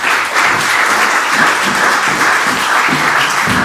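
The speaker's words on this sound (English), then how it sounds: "Let's give her another big round of applause." Sustained applause from an audience at a tourism awards and expo launch event, a dense, even wash of many hands clapping loudly and continuously throughout, with no talk over it.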